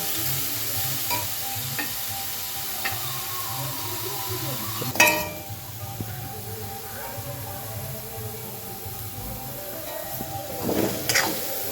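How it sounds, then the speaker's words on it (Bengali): Chopped cauliflower filling for Bengali paratha fries in a hot pan, giving a steady close sizzle with occasional stirring scrapes and clinks throughout. "এটাকে আমি বেশ চড়া আছে বেশ ভালো করে ভেজে নেব"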